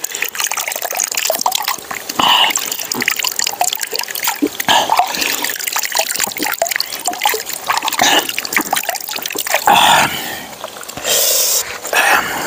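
Fresh spring water flows and trickles steadily at the El Zapote natural site, a close, continuous bubbling splash with a few louder surges and no voices over it.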